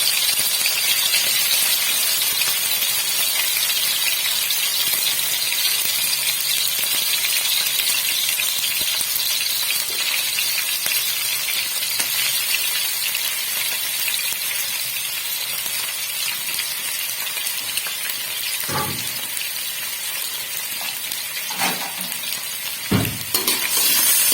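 Small chicken pieces for Peshawari Shinwari karahi fry in hot cooking oil, a steady, loud, close sizzle that runs unbroken throughout, with a few light metal clinks of a utensil near the end.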